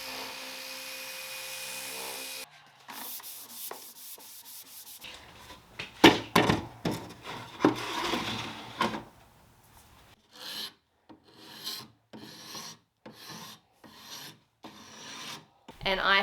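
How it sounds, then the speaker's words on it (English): A damp cloth is rubbed over a milk-painted vintage wooden dresser, giving repeated rasping wipe strokes, close and fairly quiet, in irregular bursts with short pauses and no talking. "I need to wipe it down now with a damp cloth"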